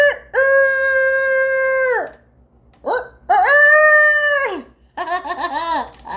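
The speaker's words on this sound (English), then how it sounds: "nobody fucking goes to a fucking campsite to hear fucking roosters crow at 4 o'clock in the morning." A rooster at a campsite crows loudly and close by, two long drawn-out calls with rising and falling pitch, followed by shorter clucking calls, with no talking.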